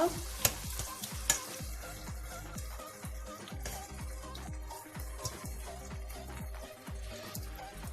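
Tomatoes fry in a pan for Ukrainian borscht, giving a steady close sizzle with repeated scraping stirs and light clinks as they are pressed down, with no talk.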